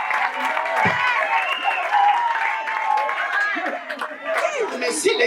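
A church congregation at a Christian wedding service applauds in acclaim, steady clapping and cheering voices filling the hall throughout, with some chatter mixed in.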